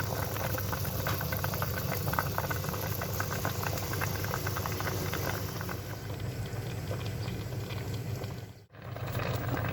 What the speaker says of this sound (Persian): این دیگه میذارم یه ربع دیگه بجوشه